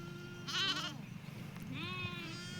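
Sheep in a farm field bleat twice, a long wavering call followed by a second after a short pause, heard fairly close over quiet outdoor background.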